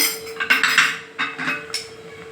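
A spoon scrapes and knocks against a pan as rava (semolina) is stirred while cooking, making a series of irregular metallic clinks and scrapes heard close up, with a faint steady hum underneath.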